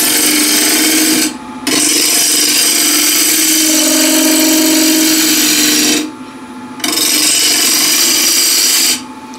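A wood lathe spins a blank at about 1400 RPM while a ball gouge trues it, giving a loud, steady rasping scrape that breaks off briefly three times as the tool lifts away and then returns.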